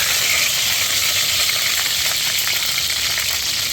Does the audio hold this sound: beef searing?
yes